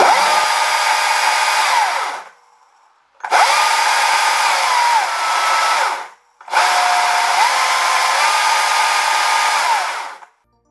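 A STIHL MSA 220 C cordless electric chainsaw runs in three long bursts separated by brief silences. Its loud, close motor whine swells and dips as the variable trigger changes speed.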